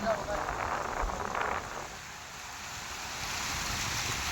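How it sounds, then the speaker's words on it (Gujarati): Water at Ramdhari lake makes a continuous rushing, surf-like wash, louder at first and then softer, with voices faintly audible early on. "હંભળાતો નઈ પાણીનો અવાજ આવે"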